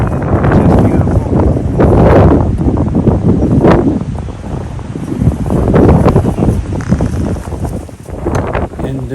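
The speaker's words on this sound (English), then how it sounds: "it was pretty windy today" Strong, steady wind by a lake on the Pacific Crest Trail buffets the microphone in loud rumbling gusts, rising and falling over several seconds with a faint rustle behind it.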